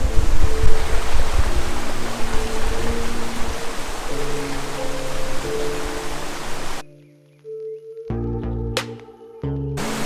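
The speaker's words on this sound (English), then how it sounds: "So this was a bit of an unexpected surprise behind me here, this waterfall." Waterfall flowing strongly after heavy rain in Bindarri National Park, a loud dense roar of falling water that runs steadily, then drops out abruptly before returning with a few tonal thumps near the end.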